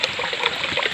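A small tributary stream of a river flowing over rocks, a steady close babble of running water with no voices.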